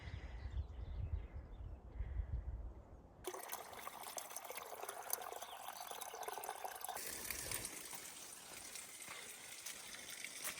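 Water is collected at Little Jimmy Springs along the Pacific Crest Trail, a continuous close trickle and splash that grows brighter and fuller partway through as the flow fills a container, with no speech.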